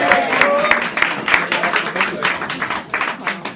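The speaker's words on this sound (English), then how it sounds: "And a big round of applause." A room of auction-goers gives a round of applause after a lot sells, a brisk mass of clapping that is fairly loud and close, with voices mixed in.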